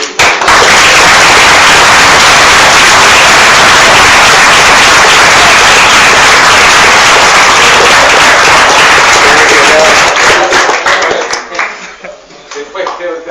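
A crowd at a debate event bursts into loud, dense applause for a speaker, sustained clapping at full volume that thins and tapers off near the end, with voices mixed in.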